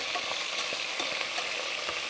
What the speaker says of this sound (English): Get your shallots, garlic to start to sort of melt into that. You can hear that sizzling away.